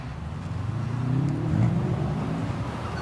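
Rally car on a khanacross run at Ringwood, engine droning and revving steadily from a distance, swelling mid-run and easing, with no talk.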